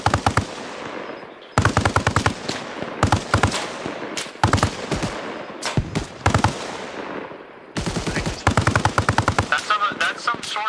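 .50 caliber mounted machine gun firing during squad mounted-operations training, loud close bursts of rapid automatic fire in several long strings separated by brief pauses, with a voice faintly heard under the shooting.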